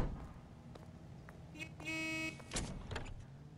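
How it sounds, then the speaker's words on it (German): A police car horn honks in the video game L.A. Noire, a steady, loud tone lasting about half a second amid game engine and street noise, with a few brief voice fragments around it. "Und da hupt die Polizei."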